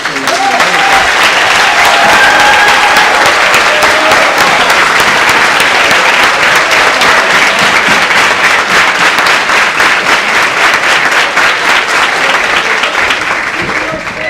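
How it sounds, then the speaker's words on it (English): An evening assembly of the American Legion convention applauds veterans, Legion members and counselors with loud, sustained clapping from a large crowd, rhythmic claps showing through the roar, some voices and cheers mixed in, easing slightly at the end. "I want everybody to help me with a round of applause for all these veterans, American Legion members, and counselors"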